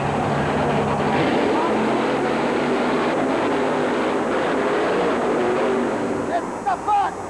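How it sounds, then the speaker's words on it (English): Two monster trucks, one of them Bigfoot, race head-to-head for a championship in Roanoke, Virginia, in 1988, a loud sustained engine roar with crowd-like wash that fades near the end. "The two fastest trucks on the premises go head-to-head for the championship here in Roanoke, Virginia."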